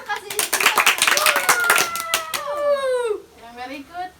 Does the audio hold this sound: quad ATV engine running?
no